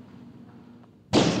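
A single loud gunshot from a 1986 television police comedy bursts in abruptly near the end, following quiet, muffled dialogue and room tone.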